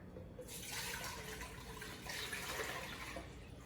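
Water, eight cups in all, pours steadily into a pot for boiling, a soft continuous splashing rush that is fairly quiet and close, with no talking over it.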